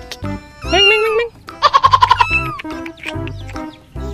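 Rainbow chickens clucking in a run of quick, close clucks among other fowl, with a voice talking over them and more talk before and after.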